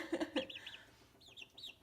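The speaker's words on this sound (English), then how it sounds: "There's the chickens, and they are doing great." Backyard chickens clucking close by, a few low clucks followed by higher chirpy peeps from several hens, soft and intermittent with no speech.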